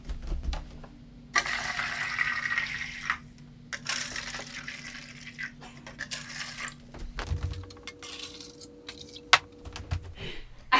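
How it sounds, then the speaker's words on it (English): Water is poured into ping pong game cups to weight them down. Several close, splashy filling streams come in separate bursts with short pauses and light clinks between, and no one talks. "I'm just gonna put some water in them to make them a bit more stable"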